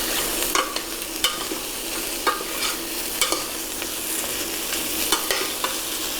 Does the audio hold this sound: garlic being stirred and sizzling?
yes